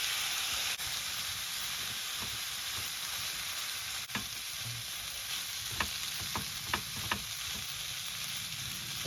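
Food stir-fried in a pan on a camp stove during car camping, sizzling and hissing steadily throughout, with a few sharp clinks and scrapes of a utensil stirring toward the end; no talking.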